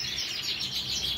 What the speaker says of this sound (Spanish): Un pío vaquita, mirad qué pío vaquita más bonito